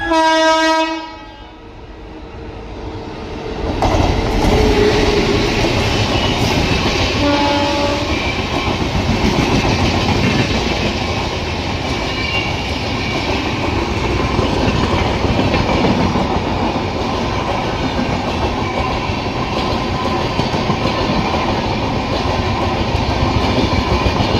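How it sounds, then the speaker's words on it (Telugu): A train horn blares at the start at Charlapalli railway station, then a loud, steady rumble and rattle of a passing train continues with clattering wheels. "కొత్తగా అప్డేట్ చేసినటువంటి చర్లపల్లి స్మార్ట్ రైల్వే స్టేషన్ని ఇప్పుడు మీరు చూస్తున్నారు"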